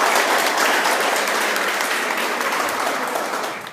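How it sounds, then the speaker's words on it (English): Applause fills a school's end-of-year presentation day: dense, steady clapping from an audience that fades out toward the end. "give these guys a round of applause"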